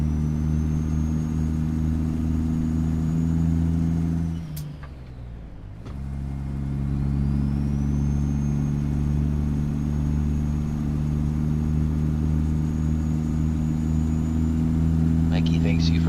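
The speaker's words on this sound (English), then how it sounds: "I think this is the 3406E Zeemod engine." A Caterpillar 3406E truck engine running the Zeemod sound mod in American Truck Simulator drones steadily at cruising speed, briefly dipping as the load drops before resuming its deep, continuous rumble.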